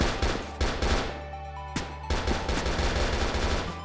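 In CrossFire Legend, an AN-94 VIP rifle fires loud, rapid bursts of automatic gunfire with short pauses between volleys and a clear ring between shots.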